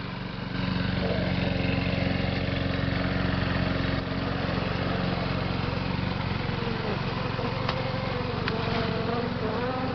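A lawnmower engine runs steadily at close range, a constant droning hum with a harsh buzzing edge and no pauses.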